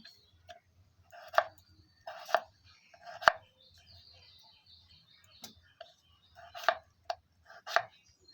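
Knife chopping potatoes on a cutting board, a series of crisp, close knocks in irregular clusters with short pauses between, accompanied by faint background chatter.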